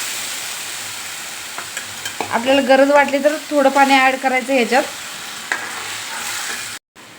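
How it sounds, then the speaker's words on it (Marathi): A Punjabi kadhi mixture is stirred in a pot over a medium gas flame, a soft, steady scraping and bubbling hiss that continues beneath a voice speaking through the middle. "हे मिश्रण सारखं असं ढवळत राहायचं, त्यामुळे आपली कढी फाटणार नाही."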